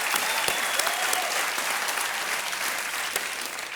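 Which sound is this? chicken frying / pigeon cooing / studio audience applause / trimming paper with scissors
studio audience applause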